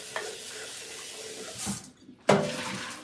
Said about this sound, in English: let me rinse this coffee pot out